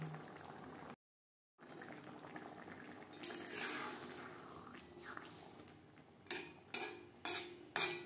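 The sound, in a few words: fish curry with peas simmering in gravy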